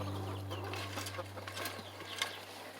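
Backyard chickens clucking softly at close range, short scattered calls over a steady low hum, with a few brief clicks and scratches.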